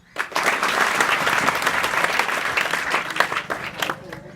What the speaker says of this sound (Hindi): बहुत बढ़िया, एक जोरदार ताली मारो।